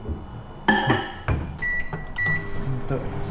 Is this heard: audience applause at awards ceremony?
no